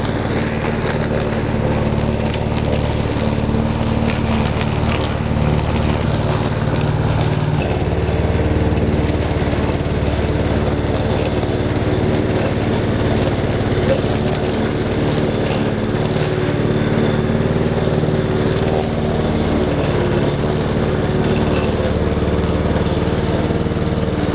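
A Champion 5347 self-propelled petrol lawn mower runs at a steady, loud engine drone close by, holding an even pitch throughout without voices.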